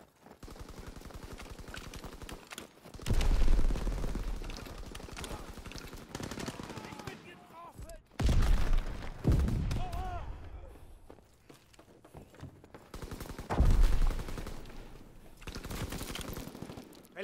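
Machine gun and rifle fire in Call of Duty WWII, loud sustained bursts returning in waves every few seconds with quieter stretches, footsteps and distant shots in between, a voice briefly heard.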